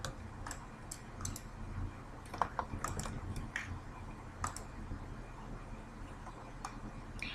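Typing on a computer keyboard: scattered light key clicks in irregular bursts with pauses between them, close by and fairly quiet over a low steady room hum, with no voices.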